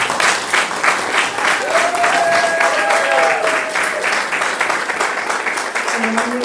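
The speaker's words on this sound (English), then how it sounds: "Please help me to give them a round of applause." Steady applause from the audience at a school district governing board meeting, loud and sustained for the whole stretch, with a few faint voices and whoops mixed into the clapping.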